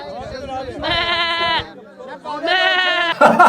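A man at a café gives two long, quavering bleats in imitation of a sheep, each about a second, with quieter voices and chatter around them.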